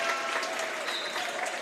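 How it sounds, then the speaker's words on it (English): A basketball crowd at a Newcastle Eagles versus Dziki Warszawa game breaks into sustained applause for player Darius Defoe, a dense even wash of clapping filling the arena. "gets a hero's reception from the crowd"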